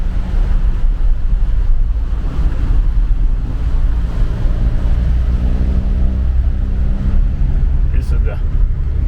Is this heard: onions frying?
no